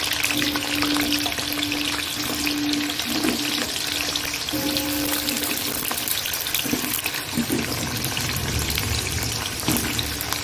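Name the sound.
potatoes added to hot oil, frying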